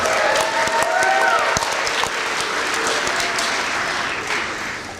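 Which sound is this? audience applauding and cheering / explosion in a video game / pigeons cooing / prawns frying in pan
audience applauding and cheering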